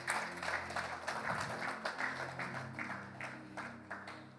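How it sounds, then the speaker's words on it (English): A church audience gives a steady round of applause, many hands clapping together at moderate distance, with a low hum of background sound and no speech over it. "Please help me clap for them as they go back to their seats."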